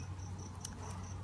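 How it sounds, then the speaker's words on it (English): Honey bees stir inside an opened hive full of honey, a faint, steady low buzzing hum with a few soft ticks, brief and without voices. "My bees always get a little crazy."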